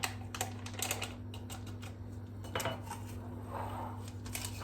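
Cream, sugar and vanilla stirred together in a pot on the stove, giving light, irregular clinks and scrapes of a utensil against metal over a steady background hum.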